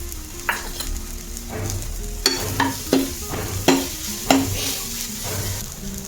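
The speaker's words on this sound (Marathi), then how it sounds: "कांदा भाजून होत आला की त्यात आलं लसूण पेस्ट टाकूया आपण" Ginger garlic paste sizzles among onions frying for misal pav, a loud continuous hiss overlaid by a handful of sharp spoon-scrape and stirring strokes against the pan, close up with no talking.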